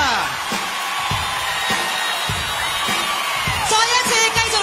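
Cantonese award ceremony audience cheers and applauds for a music award winner, a loud crowd roar with whoops and scattered claps running throughout.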